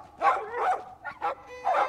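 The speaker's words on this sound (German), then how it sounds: "There's a pack of piranha poodles in this alley" A pack of poodles in the pirate video game The Legend of Monkey Island barks and yips in four quick, close outbursts over about two seconds.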